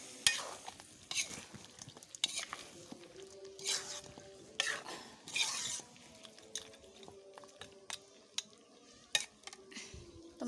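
Meat cooking in a pan on a stove top, stirred with repeated scraping strokes over a steady low sizzle, with occasional clinks of the utensil against the pan, fairly close and at moderate volume with no talking.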